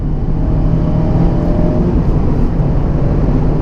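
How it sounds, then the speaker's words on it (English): Steady, loud low rumble of engine and wind buffeting inside a Mazda Miata convertible cruising on the road, a continuous dense roar with no breaks and no voices. "You can probably hear the wind noise right now."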